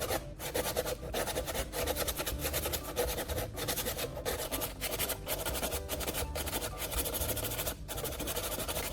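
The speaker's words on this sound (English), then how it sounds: "I'll use sandpaper to smooth out the excess material on the backside of the plastic." Sandpaper rasps steadily across the back of a repaired plastic fender, smoothing off excess repair material in a continuous, close scratching texture with brief pauses between strokes and no voices.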